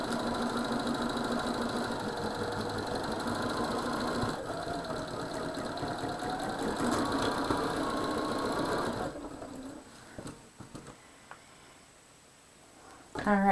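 Sewing machine stitching a quilt seam, whirring steadily for about nine seconds while someone talks over it, then falling quiet as she keeps speaking.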